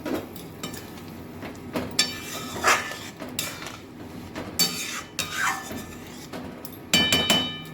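Pieces of gitti dropped into a simmering curry in a pot, which is then covered, give clinking and scraping metal-on-pot sounds with a lid clatter, irregular and close.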